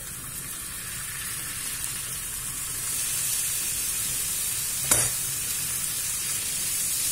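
Boiled carrots sizzling in a hot frying pan, heard as a steady, even hiss with a single sharp tap partway through.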